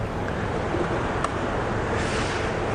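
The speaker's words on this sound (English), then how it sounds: "Rinse my jugs." Water runs steadily over barista milk jugs as they are rinsed, giving a loud, continuous rushing hiss at close range with no speech.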